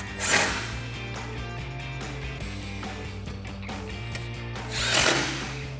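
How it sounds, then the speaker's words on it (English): Power driver with a T30 Torx bit tightening bolts on a Rugged Ridge AmFib snorkel being installed on a Jeep Wrangler JL: a close, steady motor whir with two louder bursts at the start and near the end. "And this is a T30 Torx bit to tighten these down."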